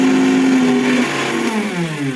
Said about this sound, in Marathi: भारी आवाज येते मिक्सरचा